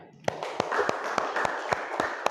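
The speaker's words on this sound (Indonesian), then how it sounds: "beri tepuk tangan untuk semuanya" A class claps hands in unison, sharp evenly spaced claps about three per second over a background murmur of voices.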